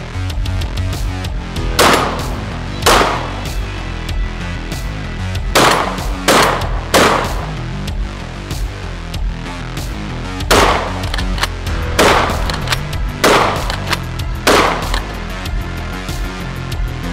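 A SPAS-12 shotgun fires roughly a dozen loud, sharp, booming shots at irregular intervals, some in quick pairs, over a steady low rumble with no talking.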